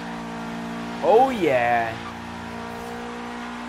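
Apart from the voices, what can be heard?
car doing all-wheel-drive donuts on pavement, Forza Horizon 3 video game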